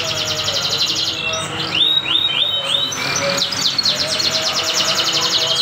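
Caged songbirds kept in a colony setup for song training chirp and trill continuously at close range, with bright repeated notes and quick rising whistles layered over one another, no talking.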